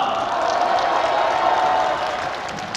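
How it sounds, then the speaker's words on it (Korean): Audience clapping and cheering at an outdoor year-end concert during a persimmon festival in Sangju, a dense continuous wash of many hands with a faint crowd shout under it, steady then easing slightly toward the end. "박수와 함성 한번 크게 한번 부탁드릴게요"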